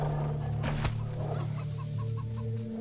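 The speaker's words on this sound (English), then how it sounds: "Seems we just got a whole bunch of chickens." Chickens in the video game Wasteland 3 cluck over a steady low background drone, with a few short, evenly spaced clucks near the end and a louder sharp burst early on; no one speaks.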